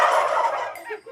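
A single turkey gobbles once, a loud close rapid warbling burst that trails off quickly.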